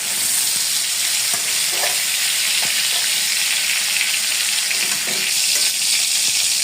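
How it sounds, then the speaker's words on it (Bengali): Cauliflower pieces fry in oil with salt and turmeric, making a loud, continuous hiss with occasional stirring scrapes underneath. "এখন এই তেলেই আমি কিছু ফুলকপি দিয়ে ভেজে নিচ্ছি লবণ এবং হলুদ দিয়ে।"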